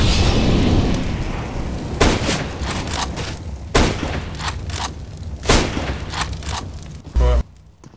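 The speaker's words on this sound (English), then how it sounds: "Grenade out." Counter-Strike grenade and gunfire in a competitive match: a loud booming rumble, then several sharp reports spaced a couple of seconds apart, dense and close over a continuous game background.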